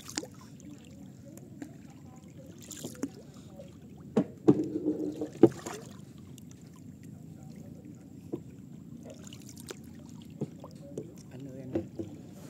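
Wooden rowboat paddled along a Vietnamese waterway, oars dipping and splashing in uneven strokes with a few sharper knocks, close by, while people talk over it at times.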